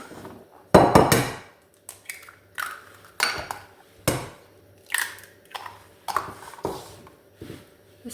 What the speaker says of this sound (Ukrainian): Три яйця вибиваю в мисочку.